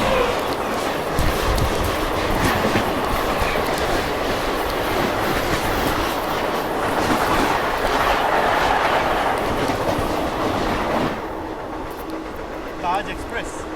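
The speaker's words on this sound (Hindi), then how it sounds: "सामने से कोई तो ट्रेन आ रही है" A Taj Express train passes on the adjacent track, with a steady loud rumble and rhythmic clickety-clack of wheels heard from inside another train before the noise drops off near the end.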